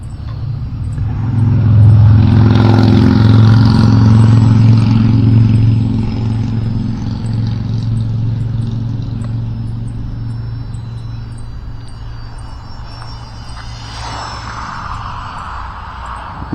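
A Turbo Timber Evo RC model airplane flies on a windy day, its motor droning and swelling loud and close before fading, with heavy wind rumble throughout.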